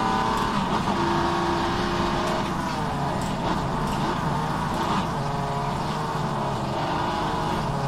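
A race car engine in the rFactor 2 racing game, an Aussie Legends mod car, drones steadily at moderate volume with gentle shifts in pitch as it holds speed.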